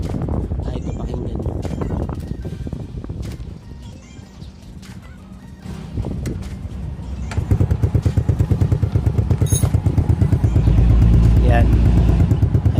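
Motorcycle exhaust noise: a voice talks first, then a close engine note builds into a loud, rapid, throbbing exhaust drone that grows stronger toward the end.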